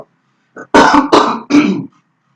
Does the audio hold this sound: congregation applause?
no